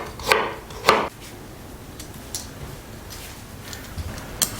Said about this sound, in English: Cut the carrots into thin slices too